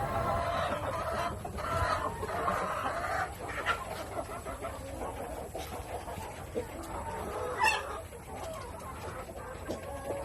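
Laying hens cluck and murmur steadily in a busy coop, with a sharper squawk standing out near the end over a constant background hum.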